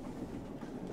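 Train rumbling past on the GM_train ride map in Garry's Mod, a low continuous rolling drone with faint rhythmic clatter, fairly quiet and without voices.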